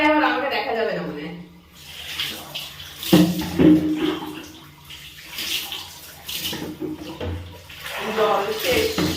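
Water is poured over the body during a home bath, desi style, in uneven splashing bursts close by, with a person talking between the pours.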